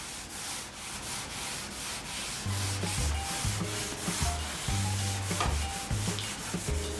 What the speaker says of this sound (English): I'm dipping this rag into the stain, wiping it on, looking at it